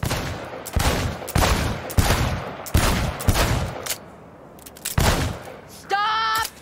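Gunfire at a shooting range in the video game Cyberpunk 2077: several loud bursts of rapid shots ring out close by with short pauses between them, then a brief electronic tone at the end.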